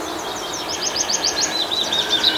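Small birds chirp and twitter in quick repeated bursts, fairly close and steady, over a soft background hiss, with a higher trilling call near the end; no one speaks.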